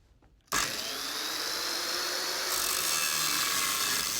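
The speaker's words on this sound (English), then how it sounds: "I've found for most of these cuts, a cutoff wheel works the best because it's the easiest to control." A cutoff wheel bites into the sheet metal of a pickup truck cab during a top chop on an International pickup, starting abruptly with a loud, steady abrasive hiss and whine that holds without a break.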